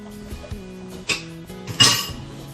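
Onions and carrots drop into an oiled pan with two sharp clinking, sizzling hits about a second apart, over a quiet background with faint pan contact.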